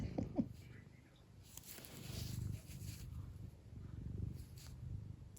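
A house cat purrs close by in a quiet room where someone is knitting, a soft steady low rumble that swells and fades in long breaths and runs through the whole stretch.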